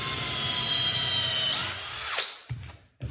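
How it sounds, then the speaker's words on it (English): A power drill bores a hole in a wooden table leg in a dusty workshop, a loud whirring spin that winds down and stops, followed by a couple of short knocks and clunks as the tool is handled. "And drill out your hole."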